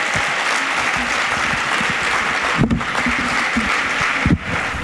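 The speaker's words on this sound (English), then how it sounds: "let's give last year's scholarship recipients one more round of applause" Sustained audience applause at a scholarship awards ceremony, honoring the previous year's scholarship recipients; dense, steady clapping from a large crowd fills the room, with a couple of brief louder bumps toward the end.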